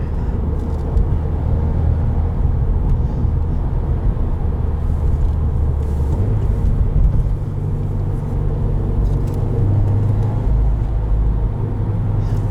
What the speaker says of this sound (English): This still has that rumble. You know, you can still tell it's a WRX